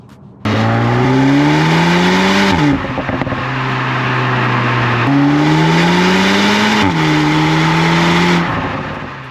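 A loud Cupra Formentor ABT sports car engine revs up high twice toward redline, pitch climbing steadily before dropping at each gear change, with a steady idle-like drone between pulls.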